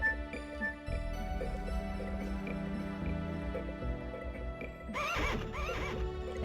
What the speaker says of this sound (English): I think that's a horse.